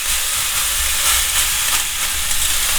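A cut of beef fillet searing in a hot pan gives a loud, continuous, close hiss and sizzle, steady throughout, with no talking.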